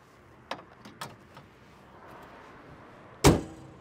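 A car door of a Nissan Skyline R33 shuts with a loud, close thunk near the end, preceded by a few lighter clicks and handling knocks; no speech.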